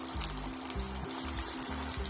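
Green pea kebabs bubble in a deep pan of oil on high heat, a dense steady sizzle close by with rhythmic low pulsing beneath it.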